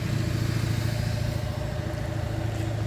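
A vehicle engine idles steadily and loudly close by, its low rumble running continuously in an empty residential street in Riyadh, with no talk over it.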